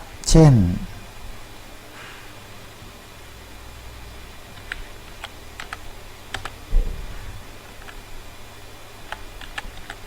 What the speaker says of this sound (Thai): ลองพิมพ์โจทย์ดูนะครับ